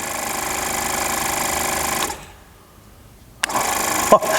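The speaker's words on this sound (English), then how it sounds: "Now let's see what it does, activating the compressor." An old BMW 750 air suspension compressor runs with a steady buzzing mechanical drone, cuts out for over a second, then starts again with a click and keeps running. No one speaks.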